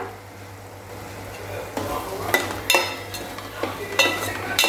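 Stirring a batter of barnyard millet in a pan with a soft sizzle underneath, punctuated by several sharp scrapes and clinks of a utensil against the pot.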